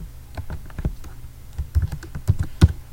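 Keyboard keys clicking in an irregular run, some strokes sharper and louder than others, with no talking.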